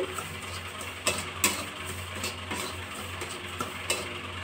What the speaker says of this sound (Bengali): গ্যাসের ফ্লেমটা কমিয়ে সুজিটা এইভাবে 5 মিনিট নাড়াচাড়া করব যতক্ষণ না পর্যন্ত সুজিটা লালচে কালার হয়ে আসছে